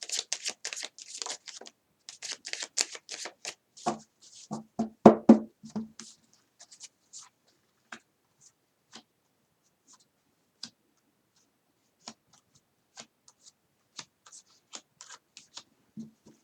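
Tarot cards are shuffled for a love reading, with quick dense riffling and flicking at first that thins into scattered soft taps and slides of single cards, close and quiet with no talk.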